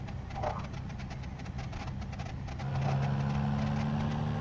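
Inside a BeamNG.drive car, the engine hums and drones at a steady idle, then settles into a louder, deeper tone partway through, with no voices.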